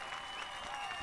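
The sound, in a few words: audience applause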